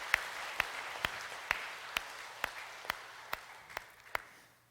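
A church congregation at a Sunday service claps in a slow, steady, unison beat, about two claps per second, each one crisp and evenly spaced over a quiet hum, stopping after roughly nine beats.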